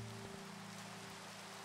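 Continuous rain in a video game, a soft even hiss of falling drops over a low steady hum from the game, faint and unbroken.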